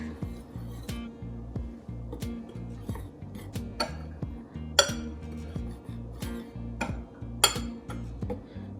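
A spoon or whisk clinks repeatedly against a bowl while seasoned flour with salt, garlic powder and chili powder is mixed for a chicken-tender coating, producing steady, close, rhythmic taps with occasional sharper clinks.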